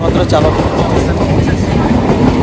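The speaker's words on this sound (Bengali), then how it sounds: "এর মধ্যে ট্রেনের জন্য দাঁড়িয়ে গেলাম" A loud, steady rumble of a train rolling past close by, with a continuous rattling clatter throughout.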